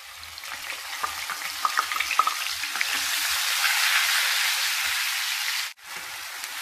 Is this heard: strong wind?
no